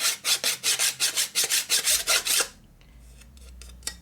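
A curved half moon file scraping metal during a custom chopper motorcycle rebuild: about a dozen close, even, rhythmic rasping strokes, then quiet.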